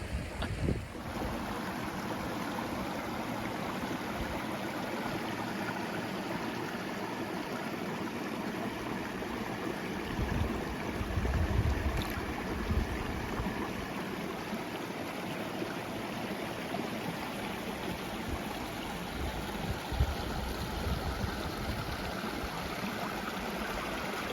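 The River Erme on Dartmoor flows in a continuous, even rush of water. It sounds close and steady, with small swells in intensity and no voices.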